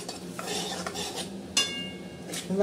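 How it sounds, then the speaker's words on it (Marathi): Ridge gourd curry being sautéed in a pan, with a spoon scraping and stirring through the vegetables in repeated strokes, a light metallic clink and soft sizzle underneath, close and moderately loud. "आता छान असं आपण परतून घेऊया"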